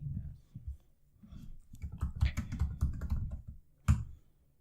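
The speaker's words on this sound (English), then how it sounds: "Simply means going to the terminal and typing" Rapid keystrokes on a computer keyboard while entering a TypeScript compiler command in a terminal, a dense run of close clicking with one sharper tap near the end and a faint voice in the background.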